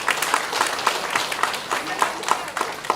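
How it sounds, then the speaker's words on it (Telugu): A gathering of women at an entrepreneurship meeting claps in unison, a steady run of about ten sharp, even claps at a brisk rhythm, fairly loud and close, with some talking underneath. "అంటే మన శబ్దం రావాలంటే చప్పట్లు కొట్టండి సార్ అందరూ"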